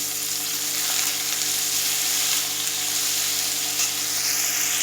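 Cumin seeds tempering in hot oil in a kitchen pan, giving a steady, close, unbroken sizzle and crackle throughout, with no one talking.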